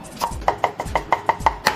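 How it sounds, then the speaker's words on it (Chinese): Star anise chopped with a cleaver on a board, eight quick, evenly spaced chops in under two seconds, each a sharp close knock. "这八角尽量剁碎一点"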